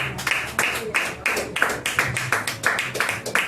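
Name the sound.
church congregation applause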